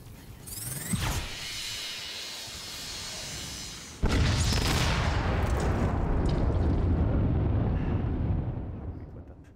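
Heavy blasts and weapon fire from the AR shooter game The Machines: a sharp burst near one second, then a sudden loud boom at four seconds that becomes a sustained rumbling barrage of explosions, fading toward the end.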